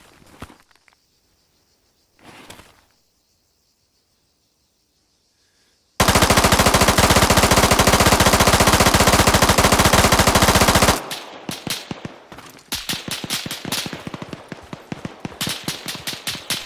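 A machine gun in the military game Arma 3 fires one long, loud, unbroken burst, then breaks into rapid irregular bursts, with a few faint footsteps or thuds in the quiet stretch before it.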